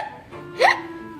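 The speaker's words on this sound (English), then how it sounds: "Pete still has the hiccups." A single short hiccup rises sharply in pitch, heard alone at close range over a faint room hum.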